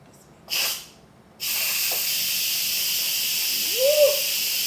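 A pressure cooker venting steam after cooking sausage and kale soup: a short hiss, a pause, then a loud, steady jet of steam that runs on without a break. A faint voice-like whoop rises near the end.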